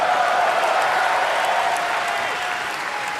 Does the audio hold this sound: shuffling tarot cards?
no